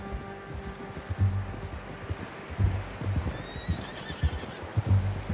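A horse in Red Dead Redemption 2 walks with a steady, close clip-clop of hooves, snorting and giving a short whinny midway, heard alone without talk.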